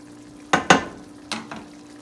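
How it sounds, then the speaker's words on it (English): A spoon stirs jambalaya in a pot on the stove: four distinct scraping clatters, two close together and then two more, over a low steady sizzle. "Give it a stir."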